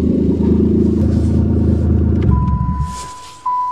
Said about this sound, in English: Sounds like the exhaust rusted out since it's been sitting here.